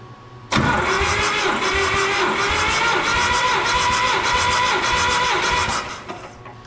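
The diesel engine of a 1972 Allis Chalmers M65 road grader cranks over on the starter with a better battery fitted. A loud, steady, rapid rhythmic churning runs for about five seconds, then winds down, with no talk.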